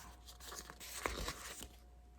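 A sticker sheet being peeled and handled, faint close crinkling and tearing rustles with a brief sharper snap in the middle.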